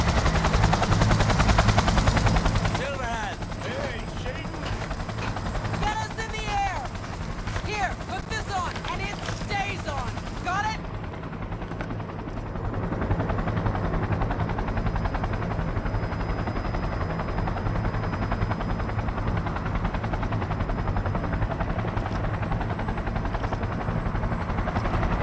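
A helicopter in the video game Cyberpunk 2077 drones as a low, steady rotor rumble that continues throughout, while gunfire-like bursts and game sounds clutter the first half before thinning out.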